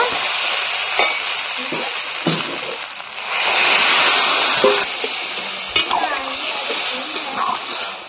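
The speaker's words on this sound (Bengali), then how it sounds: "ঘুগনিটা এখন জল দিয়ে দিব" Water poured into a pan of simmering ghugni, a spiced Bengali pea curry, sets off a loud, steady sizzle and hiss that swells midway, broken by light splashes and the scrape of stirring.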